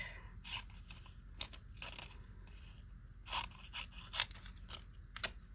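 Scissors snip a picture out of a magazine page in a quick series of sharp, close crunchy cuts with paper rustling between them, with no talking.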